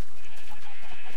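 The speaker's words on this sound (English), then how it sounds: "I saw, oh, another sheep." A Minecraft sheep bleats, one loud, steady, close bleat filling the whole short moment, heard alone without talking.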